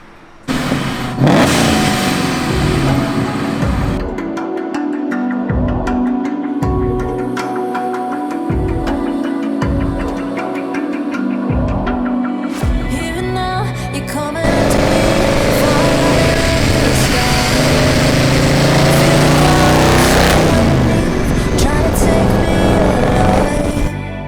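A supercharged Ford Mustang engine revs loudly while driving, with rhythmic surging bursts early on, then a sustained roaring drone, and occasional voices underneath.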